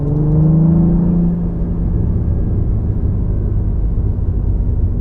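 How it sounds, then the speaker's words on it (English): Inside a Cadillac CT4-V Blackwing, a steady muffled engine and exhaust drone with a brief rising rev early on, then a constant low road rumble. "The exhaust sounds very good on this, but the insulation on this car is so good that you really don't hear it from inside."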